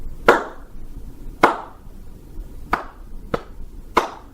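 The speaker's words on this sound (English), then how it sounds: "I slow clap you." Five sharp, well-spaced hand claps in a deliberately slow rhythm, about one every second, close and dry with nothing else in between.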